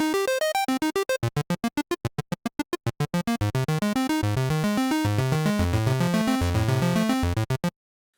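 Synth arpeggio from the RandArp arpeggiator plug-in, its note length (gate) being changed: a fast run of pitched notes that shift from short, clipped staccato hits to longer, smoother sustained tones, stopping abruptly near the end.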